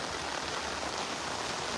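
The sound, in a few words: heavy rain falling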